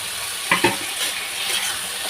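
Eggs frying in a home kitchen pan, a steady close sizzle with a couple of sharp pops or spatula taps early on, no talking.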